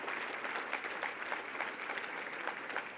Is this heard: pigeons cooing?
no